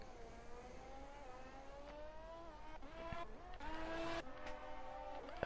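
An F1 car spinning at Imola in a racing game, engine whine sliding in pitch as the tires skid and squeal, rising to a sharp peak near the end before settling, heard without talk.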